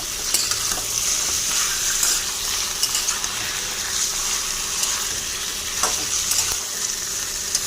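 Chicken pieces frying with onions in a pan for a coriander-leaf chicken curry, a steady loud sizzle with scraping stir strokes and occasional sharp clinks throughout.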